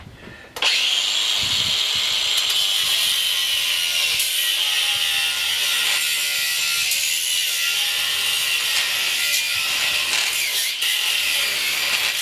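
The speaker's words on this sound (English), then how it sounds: "I'm going to fire up the angle grinder." Angle grinder cutting through electric motor windings for scrap copper: a loud, continuous high-pitched whine and grinding screech that starts abruptly and holds steady for over ten seconds, very close.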